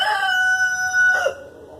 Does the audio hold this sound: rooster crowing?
yes